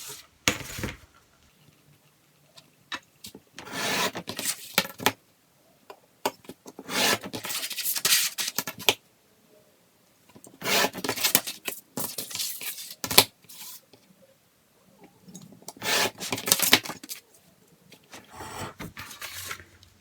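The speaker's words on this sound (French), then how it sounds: "Je découpe mes petites encoches." Scissors cut small notches into a paper envelope template, in several bursts of close snipping and rustling separated by short pauses.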